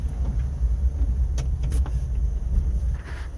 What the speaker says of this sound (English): out driving my KEI van